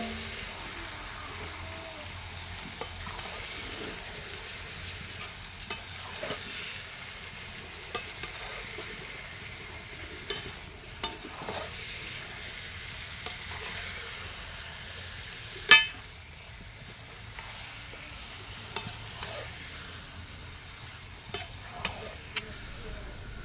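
Buffalo meat stirred in an oily pan over a stove, a low steady sizzle broken by occasional sharp scrapes and clinks of the spoon against the pan.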